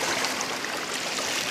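The flooded Kosi river near Almora rushes past with a steady, broad hiss of flowing water, close and constant without any talk.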